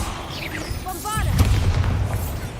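A Bombarda blasting spell goes off in a Harry Potter video game, a deep booming burst that rolls on as a sustained low rumble after a brief whooshing shimmer, with a voice speaking the incantation beforehand.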